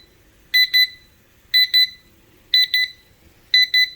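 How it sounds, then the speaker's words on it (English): A rechargeable digital kitchen timer beeping loudly in a repeating pattern of sharp double beeps, four pairs about a second apart. "you're going to hear some beeping sound right there"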